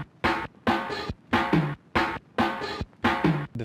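Unchopped drum break with filter and compressor processing for a hip-hop beat, a steady looping pattern of six punchy hits spaced about half a second apart, close and moderately loud, without talk.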